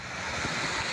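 Floodwater after storms cascades into a store basement in Davenport, a dense, constant roaring rush like a waterfall, loud and unbroken throughout.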